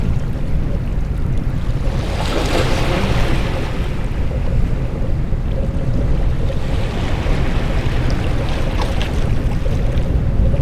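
Ocean waves at a beachfront in the virtual reality game RollerCoaster VR Universe: a steady, dense wash of surf and wind noise, loud and continuous, with gentle swells and no voices.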